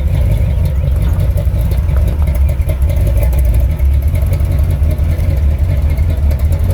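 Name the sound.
Chevy 350 small block engine running rough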